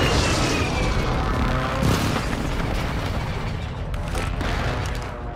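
An airstrike in Call of Duty: Modern Warfare II lands as a heavy, continuous roar of explosions, loud and dense, with booming blasts rolling over one another for several seconds.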